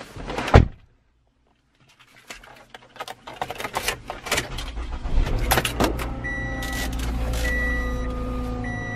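Someone climbs into a car in cold, windy weather at Zion National Park: a loud door thud, a brief hush, then rustling and clicks as the engine starts and chimes ring out.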